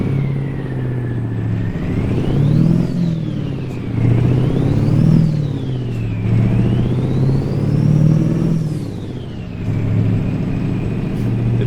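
A simulated truck engine in American Truck Simulator climbs and drops through several rev cycles, a steady loud mechanical drone with rising whine during each acceleration, continuous and without talk.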